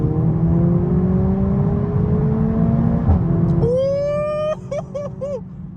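A Mercedes-Benz A45s with a 310 kW engine, in race mode, accelerates hard from inside the cabin, its engine note climbing steadily before sharp rising revs and quick gear-shift pops.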